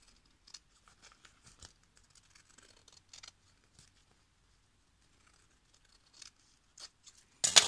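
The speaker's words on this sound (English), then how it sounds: "I'm gonna cut that paper about 1/8 of inch" Scissors snip paper for Halloween treat tags made from trash, producing sparse, quiet, irregular cuts spread through near silence, ending in a louder burst of crinkling and cutting.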